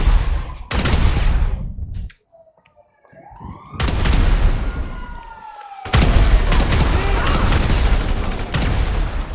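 Rapid gunfire bursts in GTA 5 with an alien invasion mod rattle out in several loud volleys, separated by a brief quiet gap and punctuated by whooshing and whistling effects.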